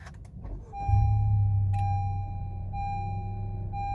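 A 2017 Honda Civic FK five-door hatchback fires up with a push-button start: the engine's low rumble swells then settles into a steady idle, while electronic dashboard chime tones ring through it.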